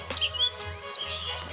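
A caged daukangan bird gives a short run of high, whistled chirps and tweets, fairly close and clear, with a low steady hum underneath.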